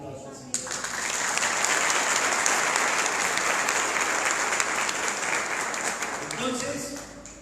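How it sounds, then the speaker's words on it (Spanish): A church congregation applauds loudly during a service, a full, dense wash of clapping that swells quickly and holds steady, with some voices mixed in beneath it. "Y un aplauso al Señor."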